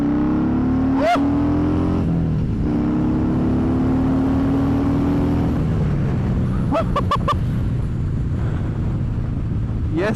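Harley-Davidson Dyna Fat Bob (FXDF) motorcycle accelerating hard along a straight, a loud, close engine note climbing in pitch through the gears, with gusty wind noise and a brief shout partway through.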